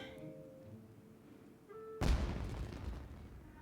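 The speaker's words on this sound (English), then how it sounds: "Huh? Was that an explosion? It sounded like fireworks." A single firework bursts in the video game Genshin Impact, a sudden loud boom midway followed by a crackling, fading rumble, preceded by quiet tonal game ambience.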